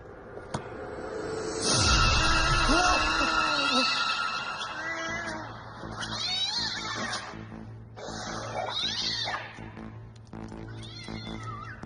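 A cat meows several times, rising and falling cries, over background music and bursts of other sound effects.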